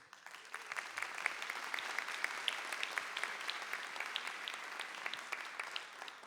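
Audience applause during a ceremonial session in a São Paulo legislative chamber, a dense, even patter of many hands clapping that holds steady throughout at moderate distance.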